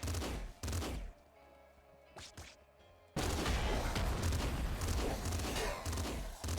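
Rifle gunfire in a snowy video game, rapid loud bursts that cut out for a few seconds and then return as a dense, sustained barrage.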